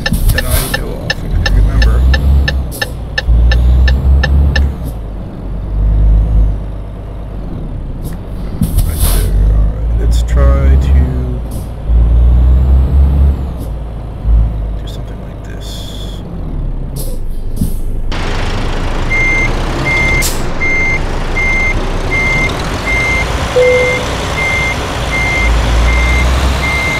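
Scania truck in the Euro Truck Simulator 2 video game, with a loud engine drone, hissing air brakes and a run of evenly spaced reversing beeps near the end.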